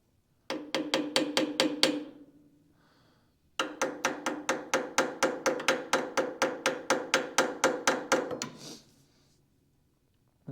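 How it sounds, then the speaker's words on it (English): Repeated light metallic tapping on the carburetor of a Ford 9N tractor in poor shape: a quick run of about eight taps, a pause, then a longer steady series of close, crisp knocks. "I'm just giving the carburetor a couple taps here, make sure it floats free"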